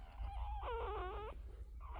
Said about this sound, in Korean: 여기 와서 낑낑하고 있어